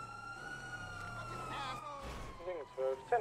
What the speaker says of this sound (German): Alter, die Sirene ist schrecklich.